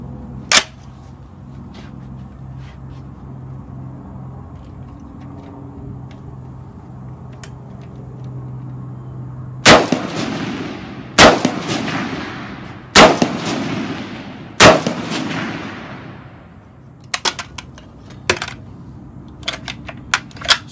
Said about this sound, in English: We're going to fire a couple rounds so you can see the normal left and right